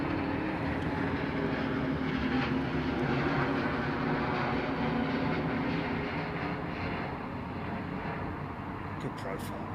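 A Boeing 787 jet airliner roars steadily with broad, continuous engine noise, loud and sustained throughout, heard from an airport viewing area with people talking over it.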